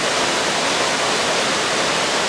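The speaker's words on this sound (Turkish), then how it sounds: "Dağın tam ortasından çıkan bir şelale bu." Water pours from the middle of a mountainside as a waterfall near a canyon, making a continuous, even, full rushing hiss with no breaks or voices.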